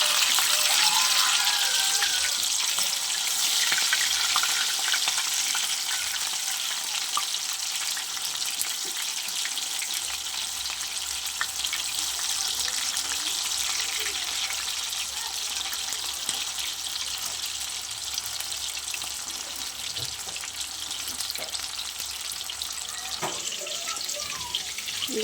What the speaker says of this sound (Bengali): চিকেন পকোড়া ভাজা হচ্ছে।